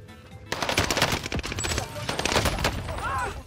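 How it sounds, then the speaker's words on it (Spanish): Rapid automatic gunfire and bursts of shots in the video game Warzone, loud and close, sustained through most of the moment with dense crackling volleys and a voice faintly under the action. "¿Quién me está disparando, Dios?"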